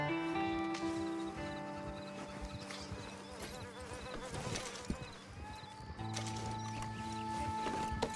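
Horse-drawn wagon approaching along a track in the video game Red Dead Redemption 2, with steady hoof clip-clops and rumbling wheels over ambient game music and insect buzz.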